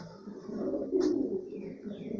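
A pigeon sitting on a nest gives a single soft, low coo close by against quiet background noise, with a faint higher chirp nearby.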